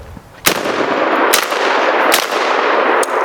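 A short-barreled shotgun loaded with double aught buckshot fires four loud, sharp blasts spaced roughly a second apart, each followed by a ringing outdoor echo.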